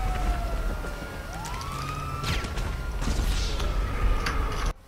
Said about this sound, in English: Oh, I just got hit by a police car.